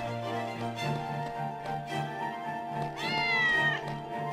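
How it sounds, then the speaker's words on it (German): A cat meows over steady background music with a sustained drone in the video game Simon the Sorcerer 3D; a higher, drawn-out meow rises near the end. "Ich habe eine Katze gehört."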